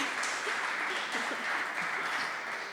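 An audience at a book festival panel gives a steady round of applause, a dense, even wash of clapping that holds for a few seconds, with faint voices beneath it.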